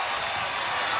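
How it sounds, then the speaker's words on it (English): A basketball arena crowd at a WNBA Finals game between the Connecticut Sun and Washington Mystics rises and cheers, a dense, steady roar of many voices in a broad wash of noise. "Crowd rising to its feet."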